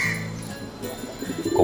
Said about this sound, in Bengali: কবুতর মানে এগুলো আমার কবুতর